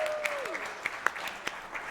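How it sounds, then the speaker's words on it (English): A crowd at a pinball championship prize ceremony claps steadily at a moderate distance, with a few sharper individual claps standing out and a faint tone sliding downward early on. "Warm round of applause for Johan."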